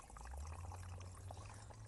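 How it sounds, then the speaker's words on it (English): Water drains through the soil of a garden planter just after watering in fertilizer, a soft continuous trickling and pouring wash heard up close at low level, with no talk. "I can hear the water going down."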